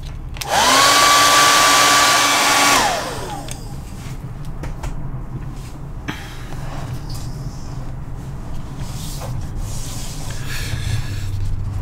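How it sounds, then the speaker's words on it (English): A hairdryer blasts an ink wash still-life painting for about two seconds, a loud close whir with a steady tone that starts and stops abruptly, followed by quiet room rustling and faint handling noises. "let's hit this with a hairdryer"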